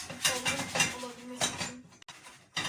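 Pan shaken on the stove while a bazlama flatbread cooks, giving a series of metallic scraping and clattering bursts with short pauses, fairly close and moderately loud.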